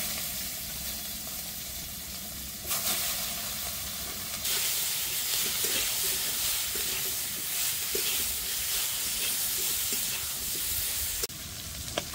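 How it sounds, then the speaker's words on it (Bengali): Cut cauliflower seasoned with turmeric and salt fries in a pan in a village kitchen, a loud steady hiss and crackle that swells sharply partway through and continues with faint stirring clicks. "ফুলকপি ভাজা হয়ে গেছে, এবার ফুলকপিগুলো উঠিয়ে নেব।"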